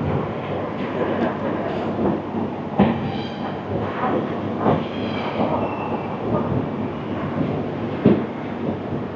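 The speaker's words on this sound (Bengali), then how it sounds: "ওই যে হর্ন দিয়ে দিয়েছে, এবার আমাদের ট্রেন ছেড়ে দিল।" A Shatabdi Express train departs Kishanganj station with a steady low rumble and rattling wheels, the rolling noise filling the scene with occasional sharper clunks, heard from on board.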